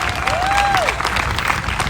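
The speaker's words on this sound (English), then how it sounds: "Everybody should give her a round of applause for that." A brief burst of crowd applause at a county Democratic party event, loud, steady and close, with a short tonal whine passing over it.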